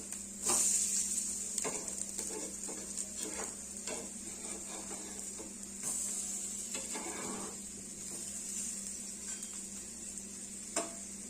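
A veggie pancake fries in a pan with a soft, continuous sizzle and occasional light scrapes and taps of the spatula, with no voices.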